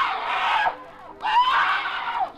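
A woman in an old-time radio crime drama lets out two long, piercing screams separated by a short gap, loud and close, with no other voices.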